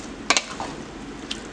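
Broth-soaked rehydrated soy curls stirred together in a pot for a plant-based chicken pot pie soup, giving a couple of brief close scraping swishes, then quiet with one more faint stir.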